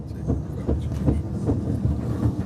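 A high-speed train travels between Samarkand and Tashkent in Uzbekistan, its steady low rumble carrying a repeating clickety-clack of wheels over rail joints roughly every few tenths of a second, heard close from inside the carriage.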